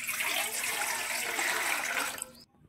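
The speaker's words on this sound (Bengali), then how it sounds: "টমেটোটা আমি ধুয়ে নিচ্ছি" Tap water runs steadily over tomatoes being rinsed in a home kitchen, a close, broad splashing hiss that carries for about two seconds and then cuts off abruptly.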